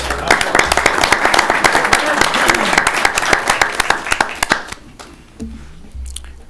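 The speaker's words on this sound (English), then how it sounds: "I think we should give him a round of applause." Loud applause for a retiring colleague at a workplace send-off. The clapping is close and busy, then thins out and fades after a few seconds, leaving quieter room sound.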